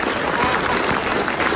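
A studio audience at an Indonesian comedy talk show claps in dense, continuous applause, loud and steady throughout the short burst.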